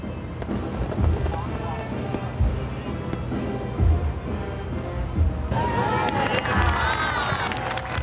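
A considerable crowd packs the docks at Belém as the H-37 boat comes in to berth, a steady mass of voices with rising cheers and shouts, swelling louder near the end.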